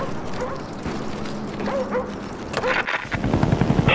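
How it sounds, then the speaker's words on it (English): Attack dogs in Call of Duty Black Ops multiplayer, with barks and yips scattered over a constant helicopter drone and game noise, moderately loud and growing busier toward the end. "Friendly dogs inbound."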